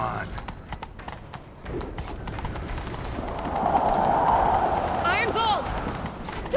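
Horse hooves clip-clop steadily in The Witcher 3 as a rider sets off in pursuit, the rhythmic beats running under game dialogue and ambient bird calls, with voices talking throughout.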